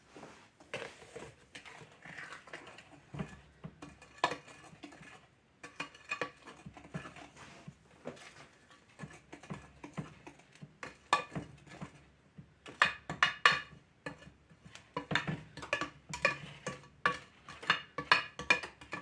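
Cookie dough for homemade candy bar cookies is stirred in a bowl, giving irregular soft scraping and thudding strokes with occasional light clinks of utensil on the bowl, close and unhurried, with no talking.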